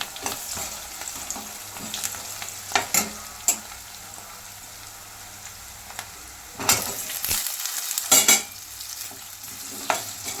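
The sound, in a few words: potatoes frying in oil with cumin and turmeric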